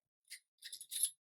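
A few quick, faint metallic snips and clicks as scissors are handled, close by in an otherwise quiet room.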